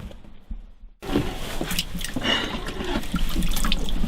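On the windy, white-capped Alabama River, water splashes and sloshes up close as a dip net scoops shad from the surface, a brief quiet moment giving way to continuous churning, dripping water.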